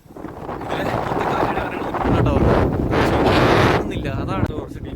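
Strong gusts buffet the microphone at a hilltop viewpoint at Chadurangapara in Kerala, a loud continuous roar that swells midway and stays heavy before easing slightly near the end.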